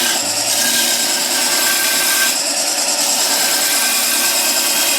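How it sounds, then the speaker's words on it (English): A skew chisel roughs out spindle work on a wood lathe, giving a continuous bright, hissing shave of wood that runs steadily the whole time with a brief dip midway. "I don't think there's a more efficient way to rough out spindle work than what it is with a skew"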